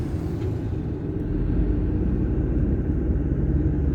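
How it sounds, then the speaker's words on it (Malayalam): A cement mixer truck passes on a road in Medina beside buildings under construction, producing a steady, loud, low engine rumble that fills the whole moment with no voices. "സിമെന്റ് വണ്ടി,"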